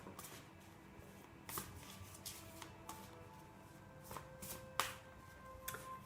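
A deck of druid plant oracle cards being shuffled and cut by hand, faint soft riffles and a few sharper taps and snaps close by, no talking.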